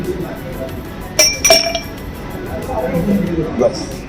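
Ice cubes clink against a glass of mango chilly vodka, a few bright knocks close by, heard under and between people talking.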